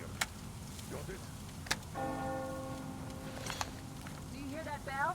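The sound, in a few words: bell ringing in video game Metro Exodus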